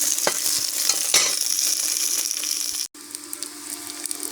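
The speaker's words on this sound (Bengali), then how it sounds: "পেঁয়াজ রসুন লাল লাল করে ভাজা হয়ে গেছে।" Onions and garlic fry in a pan with bay leaves for an egg bhuna, giving a steady close sizzle with a few stirring scrapes and a brief dropout near the end, with no voices.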